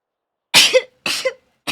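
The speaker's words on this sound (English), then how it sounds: "The triple sneeze." Three sharp sneezes come in quick succession, each a short, forceful burst close to the microphone with brief silence between them.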